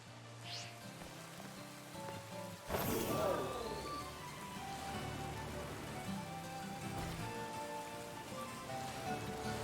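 Steady rain hisses across a cold outdoor area in the video game Pokemon Violet, a broad continuous wash that thickens after a sudden louder burst early on, with game music tones layered underneath.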